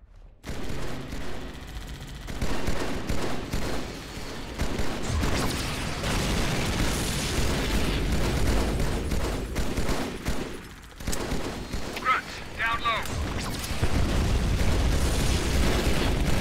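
Sustained covering gunfire fills a battle in the video game Halo 2. Bursts of automatic fire and blasts run almost nonstop, with a brief lull near the middle.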